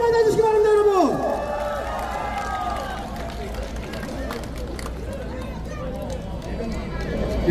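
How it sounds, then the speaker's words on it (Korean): At an outdoor presidential campaign rally in Anseong, South Korea, an amplified voice on the PA gives way to a broad, sustained crowd noise of applause and cheering that carries on steadily. "큰 박수로 맞아주시기 바랍니다, 여러분."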